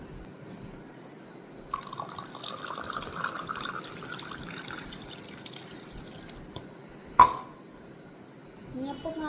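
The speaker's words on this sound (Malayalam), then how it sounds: "ഞാനിപ്പോൾ കാണിച്ചത് വെള്ളം ഒഴിക്കുന്നത്" Water poured into sugar while preparing a mixture, a soft trickling, splashing stream lasting several seconds, followed by a sharp knock and faint drips, with quiet talking in the background.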